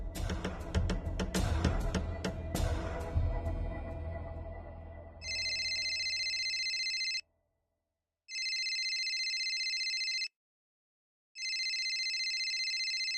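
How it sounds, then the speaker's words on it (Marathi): A telephone rings three times in loud electronic bursts separated by short silences, coming after a stretch of clattering and rustling in a Marathi TV serial scene. "वहिनी थांबा, फोन उचलू नका"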